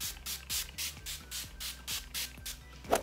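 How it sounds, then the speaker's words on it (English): Repeated short hissing bursts of Urban Decay All Nighter makeup setting spray, about ten evenly spaced pumps close by, with a soft tonal hum of background music running underneath. "I then like to set it with my All Nighter Setting Spray by Urban Decay"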